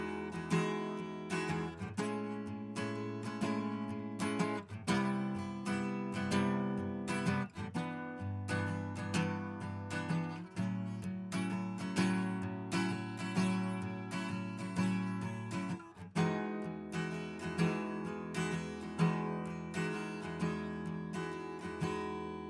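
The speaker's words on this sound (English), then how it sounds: "a dynamic microphone, a Shure SM57, recording an acoustic guitar" Acoustic guitar strummed and picked, captured through a Shure SM57 dynamic microphone, playing steady chords throughout with a full, continuous tone and no voices.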